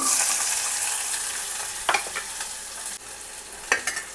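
Mustard seeds, cumin and finely chopped onion fry in hot oil for a radish fry, a steady close sizzle with occasional clinks and scrapes of stirring, and no talking.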